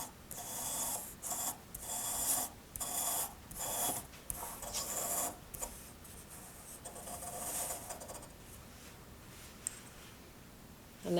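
A pencil scratching across paper while a compass-like protractor swings another circle, steady rhythmic rubbing and scraping strokes, close and fairly quiet, with no talking.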